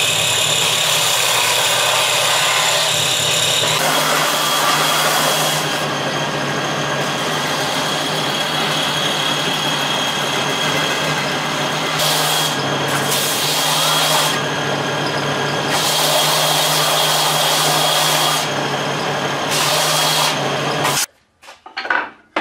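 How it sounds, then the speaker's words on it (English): Wooden pieces cut for a Chu-ko-nu repeating crossbow are sanded smooth, giving a continuous loud rasping, whirring drone that shifts in pitch and intensity for about twenty seconds before stopping abruptly, followed by a few brief knocks. "we're going to sand everything off and make it all pretty before we get started"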